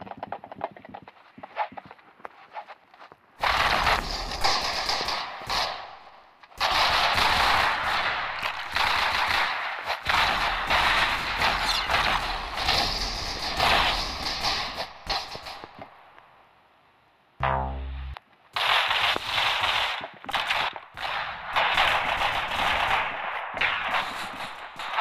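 Rapid bursts of pistol fire in the video game Arsenal, loud and dense, with a few short pauses between volleys and no talking.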